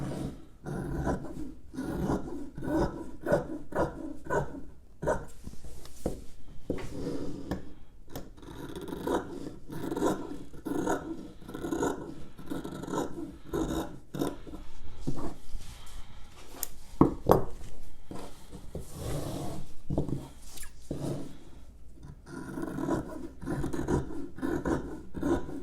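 Scissors cutting out fabric pattern pieces for a flat felled seam, irregular close snipping, rasping and rustling with small knocks, continuing throughout without talk.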